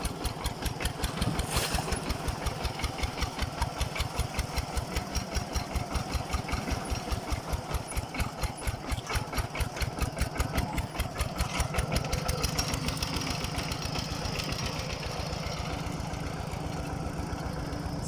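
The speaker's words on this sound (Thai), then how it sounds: "วิ่งรถไถ" Walk-behind tractor engine running steadily outdoors, a rapid regular single-cylinder chugging thump with mechanical clatter, fairly close and continuous, no talking.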